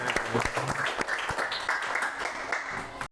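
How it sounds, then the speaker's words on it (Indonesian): Classroom applause from pupils, a short burst of scattered, uneven clapping by a modest group at moderate distance that runs for about three seconds before cutting off abruptly. "Tepuk tangan"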